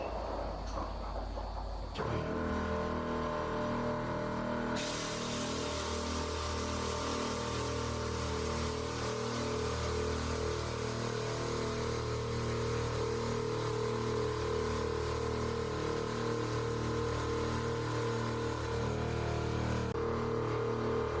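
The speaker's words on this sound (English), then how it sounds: "I'm going to turn the compressors on." Vixen Air 200 PSI air compressors switching on beneath a truck and running steadily as a loud, continuous mechanical hum with a rhythmic pulsing drone, louder after a few seconds, with no talking.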